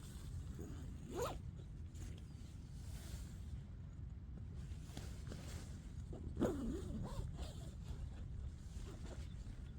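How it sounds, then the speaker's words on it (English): A Snugpak Stratosphere bivvy bag being zipped closed from inside, the zip running in a couple of short rasping pulls over a steady low outdoor rumble. "I'll zip myself in."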